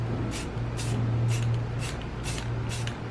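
Flat black metal spray paint hisses from a can in six short, even bursts, each a bright airy spray about a third of a second long with brief pauses between, close and fairly quiet over a low steady hum.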